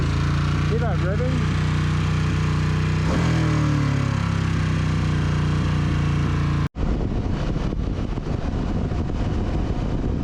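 Harley-Davidson Pan America motorcycle engine running steadily and loud with a deep drone and rising revs, on a ride in 32-degree heat, ending in an abrupt cut to rougher noise.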